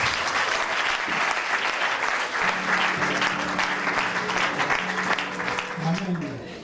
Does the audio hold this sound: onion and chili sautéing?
no